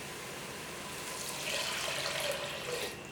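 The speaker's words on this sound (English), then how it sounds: "I added about 7 cups of water" Water pours steadily into a soup pot of lentils, a continuous soft splashing rush that swells slightly toward the end, heard alone at moderate volume.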